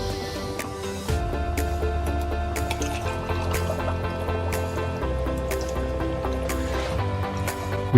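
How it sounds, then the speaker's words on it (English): Watermelon juice pours into a glass holding dry ice, a steady close liquid stream with bubbling, fizzing and small drips running for several seconds, a brief splashy burst near the start. "then we pour in the watermelon juice"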